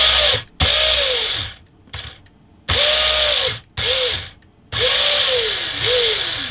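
Thunder Tiger KT8 RC car electric motor whines in short bursts of driving and near-instant reversing, pitch rising and falling with each run, separated by brief silences.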